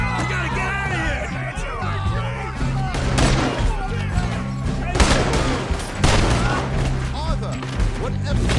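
A Red Dead Redemption 2 shootout: rapid overlapping gunshots and volleys crack repeatedly throughout, with shouting voices mixed in among the firing.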